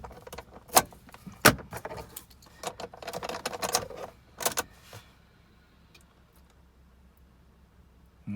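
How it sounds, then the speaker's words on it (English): Car keys for a 2005 Ford Escape jangle in two sharp bursts early on, then softer rattling and clicks as a key is picked up, followed by near-quiet with a faint vehicle hum. "I'll go ahead and grab the second key."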